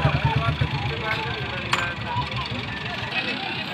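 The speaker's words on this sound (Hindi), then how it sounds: "ये भाई यहाँ से ऊपर चढ़ाएंगे इस ट्रैक्टर को" A tractor engine chugs and revs with a low, rhythmic thumping while climbing a slope at a crowded riverside bathing fair, heard beneath nearby voices and general crowd noise.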